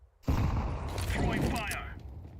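A single sudden blast from a grenade or flashbang in Counter-Strike 2 bursts in after near silence, then rings and decays over a couple of seconds, fairly loud and alone.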